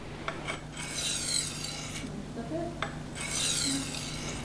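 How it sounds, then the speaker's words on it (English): A kitchen knife is sharpened on a Norton medium sharpening stone, giving quiet, gritty rasping strokes that come in a few separate passes with short pauses between them. "If the edge is dull, start sharpening on a medium stone."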